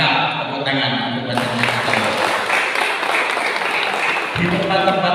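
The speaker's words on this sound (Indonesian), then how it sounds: "Tepuk tangan untuk" An audience at a village civil-defence volunteer training session breaks into applause, a dense wash of clapping that starts partway in and continues under speech from a loudspeaker.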